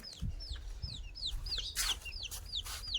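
Backyard chickens and young chicks kept outdoors make quiet, repeated descending peeps. Low clucks sound in between, and the rhythm is quick and irregular at a moderate distance, with no talking.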